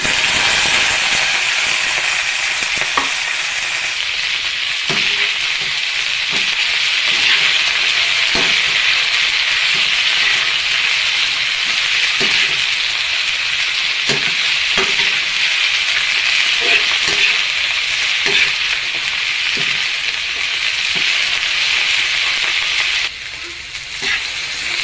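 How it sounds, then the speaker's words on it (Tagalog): Vegetables sautéing in leftover lechon kawali oil for Cabagan pancit guisado, a loud, close, continuous hiss and sizzle with occasional scrapes and clanks of stirring, with no talking. "So, unahin na natin na igisa yung gulay niya."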